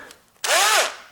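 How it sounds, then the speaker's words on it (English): An electric drill driver fitted with a socket, used while replacing Ford Duratec engine mounts, spins up with a loud, close whir that rises and falls in pitch over about half a second after a brief quiet start. "I can also use my electric drill driver. I install my socket in here"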